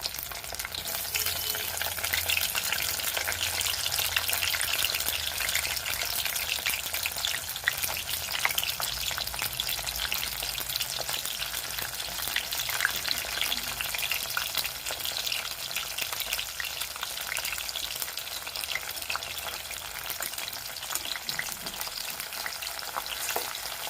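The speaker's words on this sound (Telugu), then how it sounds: "కొంచెంగా ఫ్రై చేసుకోండి." Corn kernels frying on low heat for crispy corn, a dense continuous sizzle and crackle filling the pan without pause, close and even throughout.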